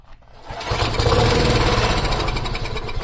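A dirty, cheap lawn mower being repaired cranks and fires within half a second, then settles into a loud, close, steady running engine drone.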